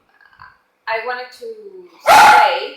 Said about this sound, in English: Oh, that's my dog again.